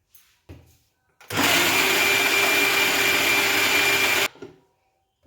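A mixer grinder whirs loudly while grinding rice batter, one steady roar of about three seconds that starts and stops abruptly, with faint knocks and handling before and after.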